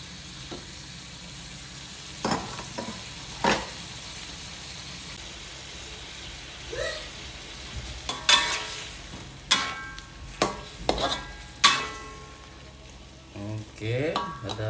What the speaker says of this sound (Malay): Biarkan dia mendidih sedikit.